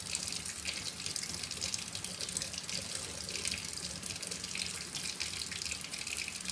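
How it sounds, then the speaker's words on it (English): Warm tap water runs steadily into a sink while eggs are rubbed clean by hand, a continuous close splashing rush with no talk. "So I use the warm water, and I rub it off with my hands."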